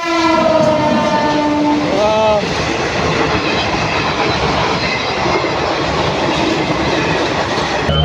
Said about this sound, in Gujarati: જો મસ્ત કેવી ટ્રેન જાય છે